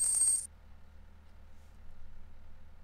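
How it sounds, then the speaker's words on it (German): A bright, quick jingle of coins being collected in a pizza restaurant video game plays once at the start, then fades into a low, quiet background hum. "Und schon wieder bekommen wir Münzen."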